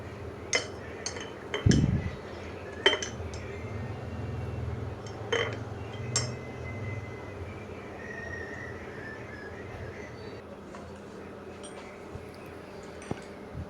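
A spoon stirring sugar and milk powder into a cup of tea: a handful of light, sharp clinks close together early on, then a quiet, low background hum with an occasional faint tap.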